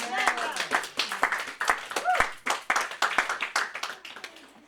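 A church congregation claps in a steady, rhythmic beat and cheers, with voices calling out over the clapping throughout.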